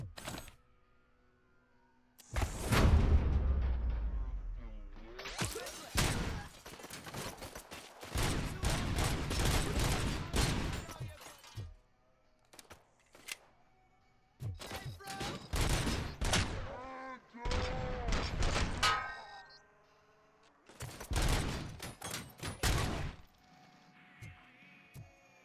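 Gunfire in the video game Robocop: Rogue City, loud bursts of rapid shots in several volleys separated by short quiet gaps, with brief voices between them.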